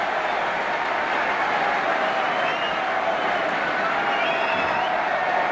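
Large football crowd at an Arsenal versus Liverpool cup final roaring and applauding the Arsenal win, a dense continuous wash of cheering that stays loud throughout.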